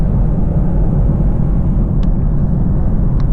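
A Camaro RS V6 1LE cruising in fifth gear at highway speed, steady low engine drone and road rumble filling the whole stretch, loud and continuous with no talk.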